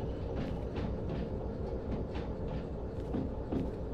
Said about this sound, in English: We're just braking with the locomotive now.